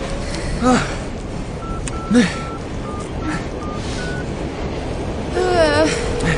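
A series of short electronic dialing tones beep in sequence, followed by a warbling ring signal, with voices talking over them.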